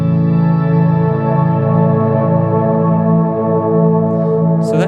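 A full six-note electric guitar chord rings out loud and sustained under ambient delay effects, its echoes blending into a steady wash, with a brief higher pluck at the very end.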